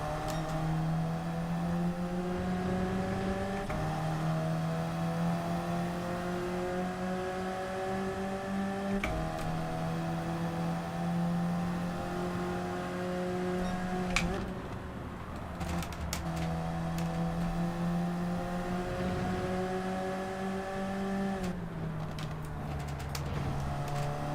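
Toyota Supra and other Group 4 race cars lapping Brands Hatch GP in Gran Turismo 7, a loud, droning engine whine that climbs in pitch through each gear, drops sharply at shifts, then climbs again.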